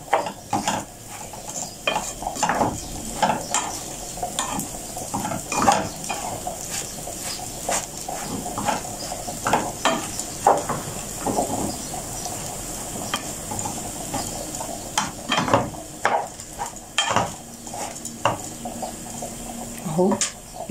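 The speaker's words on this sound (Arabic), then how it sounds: "هقلبه بقى تقليبة كويسة" Rice for sayadiyah being stirred in a pot, with repeated scraping and stirring strokes of a spoon against the metal and a soft sizzle underneath, continuing steadily throughout at close range.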